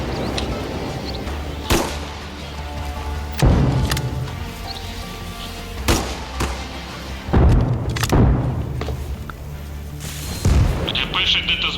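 Heavy booms and thuds of incoming explosions in the video game ARMA Reforger land every second or two, some close and loud, others duller, over a constant rumble of background noise.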